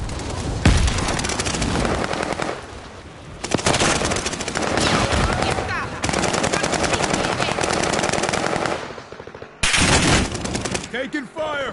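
Gunfire in a video game: dense, loud, continuous bursts of automatic fire with booming hits that barely let up across the whole stretch, pausing only briefly near the end before resuming.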